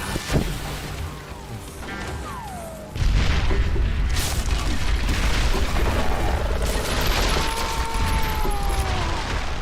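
A grenade explodes in the Western shooter Call of Juarez Gunslinger, a heavy boom that swells into a sustained, roaring rumble, preceded by quieter ambient noise and faint whistling tones.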